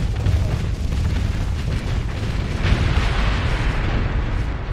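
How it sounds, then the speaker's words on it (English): Heavy bombardment in the space combat game Starsector, a continuous roaring wash of explosions and booms with crackling bursts layered over a deep rumble, loud and unbroken throughout. "They're down to one section that's being bombed to death right now."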